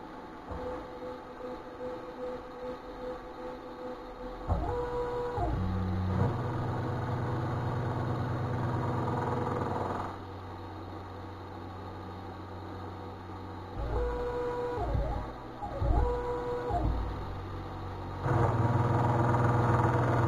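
A machine on a coil winder build runs a finish cut at 1,000 RPM, a steady mechanical drone with tonal whine that shifts in level as the cut engages and eases, close and continuous, with no talking.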